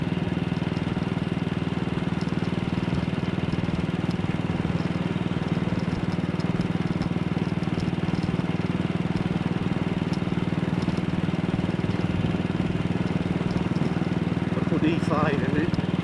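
A 64-year-old AJS Model 8 motorcycle engine runs steadily at a constant, close, droning pitch throughout, with no change in speed.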